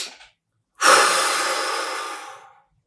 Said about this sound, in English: they basically do this inhale and then inhale again at the very top and then breathe out for 2 seconds